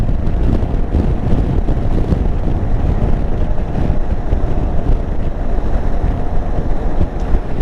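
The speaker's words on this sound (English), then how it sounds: "The wind blowing from the left there" Heavy wind buffets and rushes continuously past a motorcycle rider, a loud broadband roar with gusty fluctuations filling the whole stretch.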